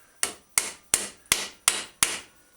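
Ball peen hammer striking a Schwinn bicycle fender: six sharp metallic blows at an even, steady rhythm, loud and close, each ringing briefly before the next strike.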